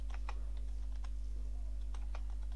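Rapid keystrokes on a computer keyboard during an online typing speed game, an uneven run of clicks close to the mic over a steady low hum.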